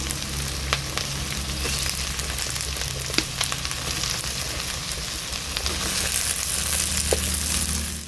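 Potatoes fry in hot oil in a pan for a mixed monsoon vegetable curry, giving a loud, continuous close sizzle that swells slightly toward the end, with a few scraping clicks and no talk.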